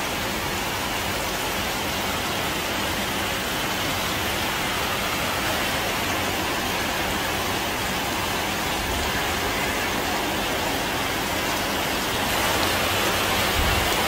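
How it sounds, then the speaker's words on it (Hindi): Steady, dense rain hissing continuously, with a broad rushing wash that swells slightly near the end, no voices. "बारिश हो रही है, हवा चल रही है"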